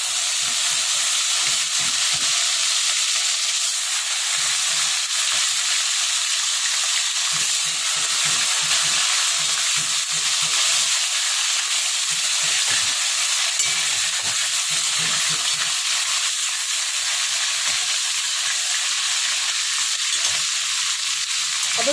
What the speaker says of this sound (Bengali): মাছটা কিন্তু বেশি ভাজা হবে না।